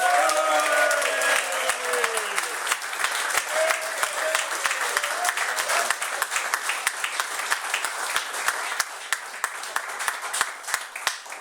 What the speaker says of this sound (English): a massive round of applause for the BDO 1983 champion of the world